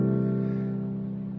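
A sustained piano chord with an added sixth rings out and slowly fades, a single held, resonant tone cluster played close with no other sounds.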